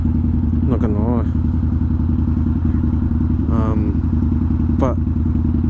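A Harley-Davidson V-Rod Night Rod motorcycle engine drones loud and close with a steady, deep riding rumble, while a voice speaks briefly over it a few times.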